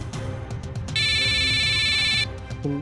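A bright, buzzing electronic phone ring sounds for just over a second, loud and steady, over a busy background.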